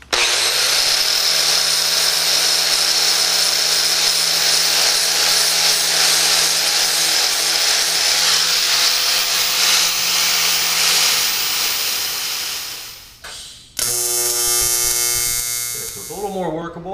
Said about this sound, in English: using the flap disc, we're just going to slowly take away the metal around it and strip the chrome off